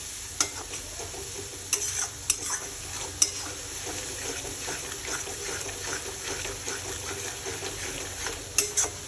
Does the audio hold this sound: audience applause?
no